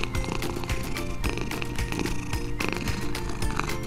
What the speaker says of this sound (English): What cute cats! I'll pet them.